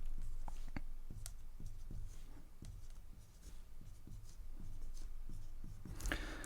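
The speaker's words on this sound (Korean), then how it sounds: "정상인데 사실 다시 한번 써볼게요" Chalk or marker taps and strokes against a board as numbers are written, a quiet series of regular short knocks and scratches over several seconds.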